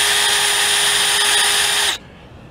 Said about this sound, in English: It's just a wheel cylinder hone.